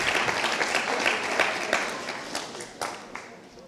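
Scattered applause from a congregation at a live church meeting welcoming a group, brief and moderately loud, fading out with a few last claps.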